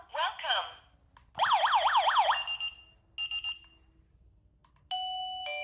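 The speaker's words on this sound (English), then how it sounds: "The door chime is my favorite." A wireless caregiver pager receiver sounds a series of electronic chime and warbling alert tones in short bursts, separated by brief pauses, crisp and close with no talking.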